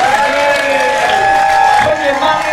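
An audience applauds and cheers at a tribute concert, a crowd's clapping washing under a loud voice that talks over it and sustained musical tones.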